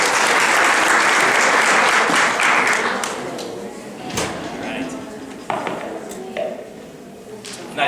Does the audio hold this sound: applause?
yes